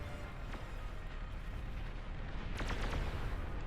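Units in the video game Beyond All Reason, Hounds firing on Karganeths: a dense, rumbling stream of distant explosions and cannon-like blasts, with a few sharper bursts standing out, and no talking.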